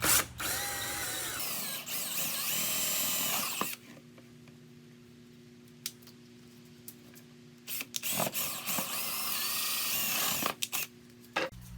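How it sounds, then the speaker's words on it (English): A power drill with a hole-cutting bit bores 1 1/4 inch holes into a 3 gallon bucket lid, a loud close grinding whine in two sustained bursts separated by a quieter pause with a faint hum and clicks. "Start by cutting 2 1 1/4 inch holes into the lid,"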